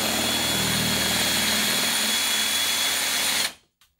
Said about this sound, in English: I've got my drill set in reverse. I'm going to drill out.